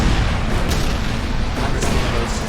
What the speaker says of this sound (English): I'm gonna show you guys how many shots it is.